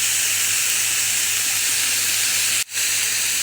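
Minced meat and onions frying in a pan, a steady loud hiss and sizzle with a brief sharp drop near the end.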